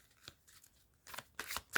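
Tarot cards riffle and slap together in a few soft, quick bursts, close and quiet, with near-silent gaps between shuffles.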